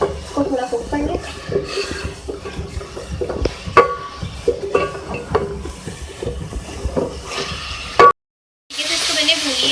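Onion and chicken frying with chili powder and spices in a pan for khari pyaz chicken, a steady close sizzle and stirring under a woman's speech, cut by a brief silent gap before the sizzle returns louder.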